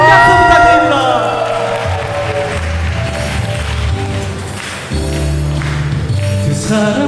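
Wedding guests applaud and cheer for the bride and groom over loud music, a lively, close crowd noise mixing with a strong beat throughout.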